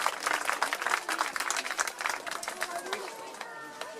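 Outdoor crowd applauding riders and their horses at a Sainte-Rosalie horse blessing in La Fare-les-Oliviers, dense steady clapping with cheers and a few voices mixed in, a thin whistle-like tone near the end.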